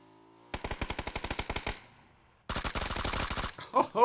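Two long bursts of rapid automatic gunfire from PUBG, the first a fast rhythmic string of shots that fades, the second a denser sustained volley after a short pause, loud and close, with a brief voice at the end.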